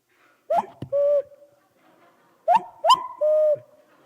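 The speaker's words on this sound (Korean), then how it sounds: "뻐꾸기 못 들어보신 분들을 위하여 제가 뻐꾸기 소리 들려드리려고 그래요." A cuckoo calls twice, each call a clear two-note descending coo, alone against silence with a pause between them.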